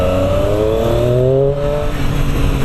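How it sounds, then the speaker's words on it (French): A Triumph Street Triple 765 RS motorcycle accelerates hard, its engine note climbing steadily in pitch through a loud, close, continuous run before easing off briefly near the end. "De la souplesse et du couple, une accélération parfaite."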